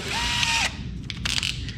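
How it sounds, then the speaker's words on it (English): A power drill whines briefly at close range, then stops, followed by several short bursts of drilling and scraping, while working on the carburetor of a 1974 International Harvester Scout. "Let's drill a hole."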